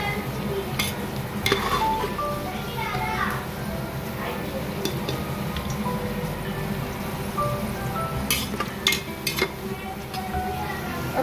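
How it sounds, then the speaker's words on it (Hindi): Onions fry and brown in a pan for biryani, a soft steady sizzle under clinks of a spoon and stirring, with someone talking over it in the foreground. "तो ये देखो, ये प्याज हमारे ब्राउन हो रहे हैं"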